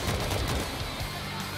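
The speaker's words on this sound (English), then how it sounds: "This gun's not an automatic, so my finger's starting to hurt from tapping the trigger so much." A semi-automatic gun in the video game World War Z fires as fast as the trigger can be tapped, with loud shots crowding together into a nearly continuous volley over a heavy low rumble.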